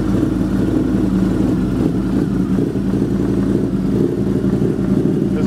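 A Harley-Davidson V-Rod motorcycle engine runs steadily nearby, a loud continuous low rumble with slight fluctuations and no clear revving, heard alone.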